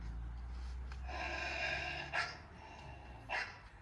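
A puppy barks and yips back at a dog sound played from a mobile phone. A sustained whimpering, howl-like call is followed by two short, sharp barks, heard close up over a low background rumble.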